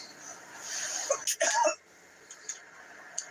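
A couple of sharp coughs break through a quiet background, followed by faint small clicks and rustles.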